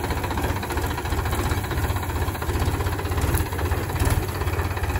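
A heavy vehicle's diesel engine runs with a steady, throbbing rumble close by as the driver presses the clutch and shifts into second gear; the sound stays even and continuous throughout.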